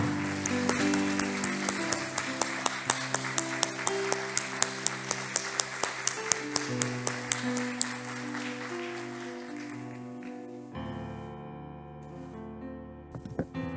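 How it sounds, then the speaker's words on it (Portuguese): A church congregation claps in a steady rhythm over sustained keyboard music. The claps fade out after several seconds while the music carries on. "Vamos dar uma salva de palmas para Jesus?"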